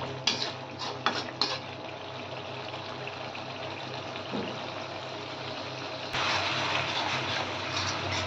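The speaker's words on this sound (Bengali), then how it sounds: "পেঁয়াজ বাটাটা দিয়ে ভালো করে নেড়ে চেড়ে এই মশলাগুলোর সাথে পেঁয়াজ বাটাটাকেও ভালো করে কষিয়ে নিতে হবে।" Onion paste is stirred with ginger, garlic, chilli and spices in a pan, with metal utensil clinks and scrapes at the start, then a quieter stretch, and a louder sizzling wash near the end.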